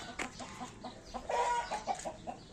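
Young chickens, cockerels still growing, cluck softly in a backyard coop, a handful of short, faint calls scattered close by in quiet surroundings.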